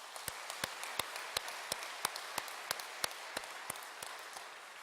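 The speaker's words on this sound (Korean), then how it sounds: "하나님께 영광의 박수 하십시다." A church congregation gives sparse applause during an afternoon worship service, with distinct, separate claps ringing out at an irregular pace over quiet room tone rather than a full, dense ovation.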